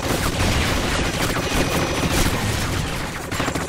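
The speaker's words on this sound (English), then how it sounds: "I'm getting explosive protection because all there are just explosions!" Rapid bursts of gunfire and explosions from a Call of Duty: Ghosts match rattle continuously and loudly, dense overlapping shots filling the whole stretch.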